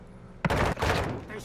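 A short, loud burst of automatic gunfire from Call of Duty: Modern Warfare 2 Spec Ops, cracking sharply and rattling on for about a second before trailing off.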